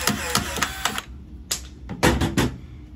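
Wire cutters cut electrical wire while wiring the neutral on a Sol-Ark 15k inverter, a series of sharp, close clicks and snaps in quick bursts with short quiet gaps between them.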